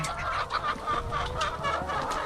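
A free-ranging flock of hens clucks continuously nearby, overlapping calls rising and falling in short bursts over a constant farmyard murmur.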